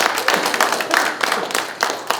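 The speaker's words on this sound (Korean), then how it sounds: "박수 한번 해드립시다." Audience applause at a Yonsei University prayer breakfast marking the school's 137th anniversary: a brief burst of scattered hand claps from a seated crowd, fairly close and uneven, with no talking over it.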